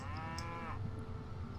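Cattle lowing in the strategy game Civilization 5, a single drawn-out moo with a wavering tone, soft and distant over a low steady game ambience, no voices.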